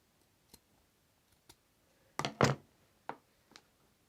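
A piece of building material is cut off during a basic house build, giving a few sharp snips and clicks, with two louder cuts in the middle, then single clicks, close and without talk.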